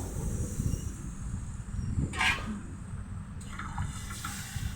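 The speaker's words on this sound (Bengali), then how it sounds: "আমি জলটা দিয়ে দিচ্ছি" Water poured into a pan of Bengali tangra fish curry with taro, a short watery splash rising in the middle of a steady noisy background.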